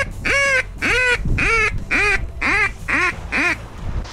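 A run of about eight loud, evenly spaced duck quacks close by, answering a hunter's duck call in the open with no talking over them.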